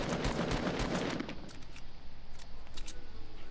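Video game gunfire, a fast burst of sharp automatic shots with a metallic rattle that fades after about a second into a quieter, busy game background.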